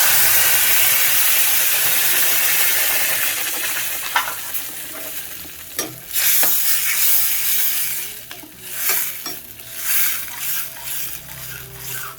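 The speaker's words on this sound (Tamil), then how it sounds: "இப்போ அரைச்சி வச்சு இந்த விழுதை ஊற்றிடலாம்." A ground paste poured into a hot pan for soya chunks gravy sets off a loud, steady sizzle that eases as stirring begins, with scraping strokes and bubbling hiss close up and no voices.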